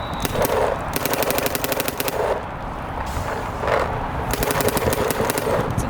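A Dye DLS paintball gun fires in rapid strings of sharp, evenly spaced pops. Three loud bursts come close up, with short pauses between them and no voices.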